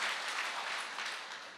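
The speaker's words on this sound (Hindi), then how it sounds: "एक जोरदार तालियां होनी चाहिए इस प्रोडक्ट के लिए।" Audience applause at a health awareness program, dense and steady clapping that fills the short stretch at moderate level and thins slightly toward the end.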